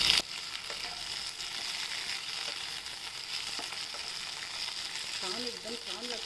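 Garlic and green chilies sizzle steadily in a hot pan for okra thecha, a dense continuous crackle that stays near and even throughout, with a few squeaky scrapes of stirring toward the end.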